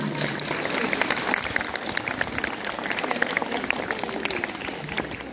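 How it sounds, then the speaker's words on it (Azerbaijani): An audience at a school ceremony claps to honour students' sports competition wins. The applause is dense and sustained, a steady wash of many hands close by from start to finish. "Gəlin bir onu alqışlayaq."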